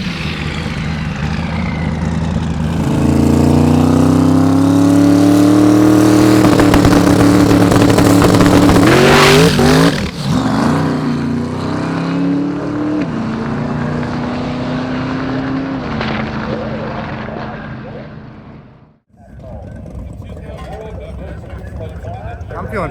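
Car number 55, a drag race car at Drag Week, builds from a steady drone into a loud rising engine roar as it makes a pass down the track, then fades off. Speech is picked up along with the engine.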